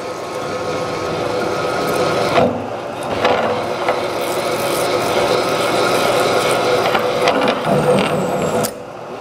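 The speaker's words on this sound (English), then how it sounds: "That's what's called a paddle drill." A paddle drill bores a 1.5 inch hole, giving a continuous, loud grinding whir with rasping wood-cutting texture and a few brief bumps before it cuts off near the end.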